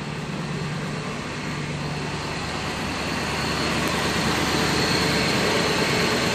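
A cheap used car, a drift project, idles smoothly and quietly with a steady low engine drone that swells slightly toward the end. No one talks over it.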